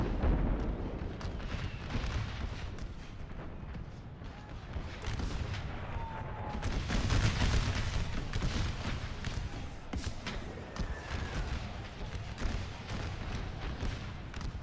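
Battle din from Napoleon Total War's American Civil War mod at Round Top: dense, continuous volleys of musket fire and booming cannon rumble on without pause for the whole stretch, with no clear talk.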